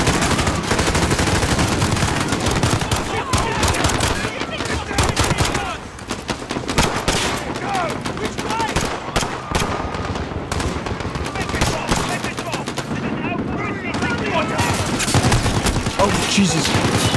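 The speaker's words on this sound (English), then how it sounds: "There's a lot of gunfire." Dense, continuous gunfire from Call of Duty: Modern Warfare fills the scene, rapid automatic bursts and overlapping shots with a loud, sustained roar of combat and a brief lull near the middle.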